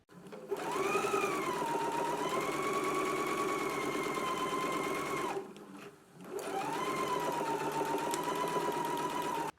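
A sewing machine stitches a faux fur garment in two long, steady runs, each several seconds, separated by a short pause, close and even in tone.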